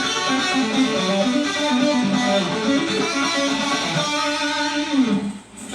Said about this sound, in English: a Bach piano piece that I learned on the guitar